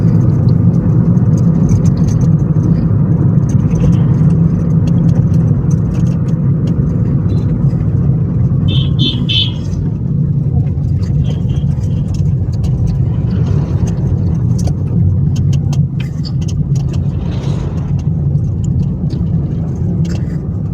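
Steady, loud engine and road drone from a car travelling at about 60 km/h on a road in the Narsingdi–Ghazipur area, a continuous whir with no voices.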